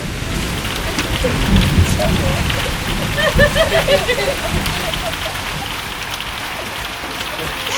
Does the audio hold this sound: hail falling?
yes